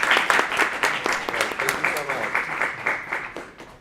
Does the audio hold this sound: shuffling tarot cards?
no